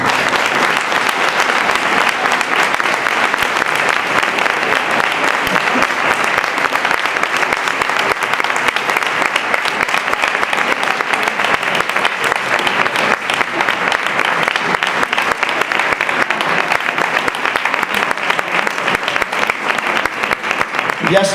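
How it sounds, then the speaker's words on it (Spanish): Loud, sustained applause from a large audience at a dance night in Valdesoto, a dense, even roar of clapping that holds steady throughout. "y a este aplauso y a esta noite en danza para ti"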